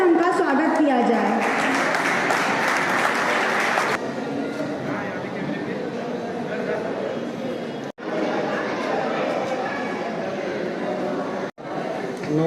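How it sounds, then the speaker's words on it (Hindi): A seated audience at a Maheshwari community Mahesh Navami celebration applauds to welcome a guest, with a dense, steady round of clapping and crowd murmur running throughout, briefly cut twice. "आप सभी से अनुरोध करती हूँ कि तालियों से उनका स्वागत किया जाए"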